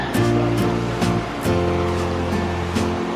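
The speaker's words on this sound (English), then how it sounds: "There's the Linville River." The Linville River rushing through Linville Gorge, a broad steady roar of flowing water heard nearby with a low engine-like hum underneath and no talking.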